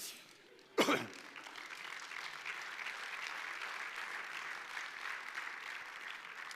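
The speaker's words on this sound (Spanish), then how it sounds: "Dele palmas al Señor" A church congregation breaks into sustained clapping that holds steady for several seconds, preceded by a short sharp thump.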